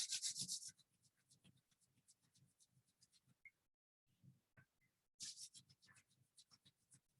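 Fingers rub together in a soft, close, quiet friction: a short burst of rubbing, sparse faint touches, then another brief burst of rubbing.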